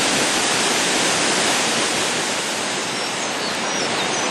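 Neidong waterfall in a national forest recreation area, where a creek drops suddenly over the riverbed, produces a loud, steady, broadband crash of falling water with no voices.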